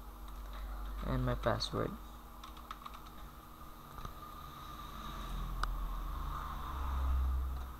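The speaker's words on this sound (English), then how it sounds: "So let's type my username" Computer keyboard typing in short bursts of key clicks as a username and password are entered, with someone speaking briefly over it and quiet background hiss.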